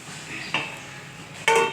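A lid set onto a pot of simmering ridge gourd, potato and poppy seed curry, with two short metallic clanks, the second louder and ringing, over a faint bubbling background.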